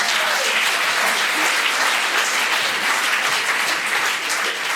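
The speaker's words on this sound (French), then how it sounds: "je vous demande d'applaudir nos deux journalistes figurants" Audience applause for two extra performers playing journalists at a Tom Sawyer show, a sustained wash of many hands clapping, loud and even throughout.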